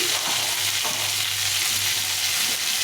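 Pointed gourd and eggplant fry steadily in a pan with green chilies, a continuous close sizzle with faint stirring scrapes and no talk.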